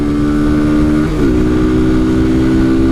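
A small Kawasaki Z125 Pro motorcycle engine droning loud and close while climbing a hill, its buzzing tone steady, then dipping briefly and rising again as the revs shift.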